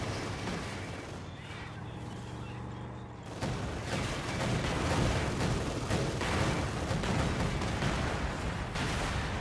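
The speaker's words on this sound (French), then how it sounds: "Voilà, franchement, les explosions" Explosions and gunfire on a winter battlefield in Company of Heroes 2, a distant, continuous wash of rumbling blasts and crackling shots that swells louder partway through, with no voices on top.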